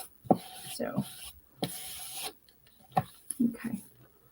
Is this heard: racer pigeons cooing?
no